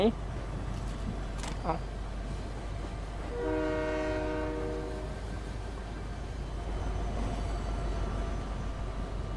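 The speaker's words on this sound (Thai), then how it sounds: "เราไม่มีธุระกับรถไฟคันนี้ละ" A video game train rumbles past steadily, and midway a long, loud horn blast sounds for about a second and a half before fading.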